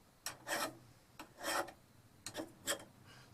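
A file rasps against a hardened steel part from a vintage hand drill, four separate strokes spaced about a second apart, close and fairly quiet with no talking.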